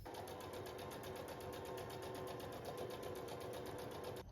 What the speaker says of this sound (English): Next up, we're going to sew up the toile for the skirt, and then we can see how it fits.